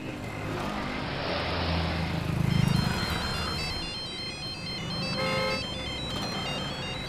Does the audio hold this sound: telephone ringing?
yes